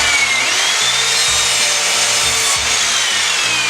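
Wood is sanded inside a van during its build and insulation work, giving a continuous, loud, rasping hiss that stays close and unbroken throughout, with a slight rhythmic scrubbing underneath.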